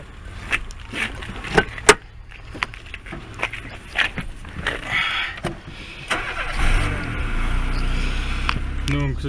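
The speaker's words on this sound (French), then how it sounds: "Donc on va démarrer le 206 maintenant." A Peugeot 206 car engine cranks over and catches, then settles into a steady, low idle around 900 rpm, preceded by scattered clicks and knocks nearby.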